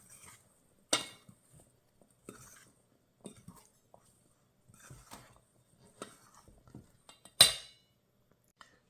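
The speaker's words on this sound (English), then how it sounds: "you want to kind of gently incorporate them, because you want the blueberries to get coated in the flour so they don't sink" Blueberries are gently folded into muffin batter and flour in a bowl, giving sparse soft scrapes and stirring sounds with a few bright clinks of a utensil against the bowl between quiet pauses.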